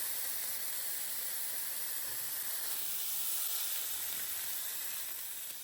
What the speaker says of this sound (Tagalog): maglalagay tayo ng mantika ulit para i-brown natin yung pork